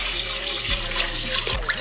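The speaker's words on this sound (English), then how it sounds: "So we're just gonna put some water in that pot." Tap water poured into a pot of rice for rinsing, a steady close splashing and gurgling stream with a couple of brief lower sloshes, no talking.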